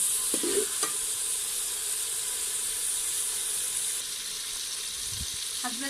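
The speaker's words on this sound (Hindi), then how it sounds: "हम इसमें कटा हुआ टमाटर डाल देंगे।" Chopped tomato frying in a pan, a steady broad sizzle with a few stirring clinks near the start and a low knock near the end, close up and without speech.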